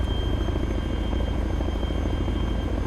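A helicopter in the military game ArmA 3 flies close and loud, its rotor chop a steady rapid thumping over a constant engine whine, with no voices.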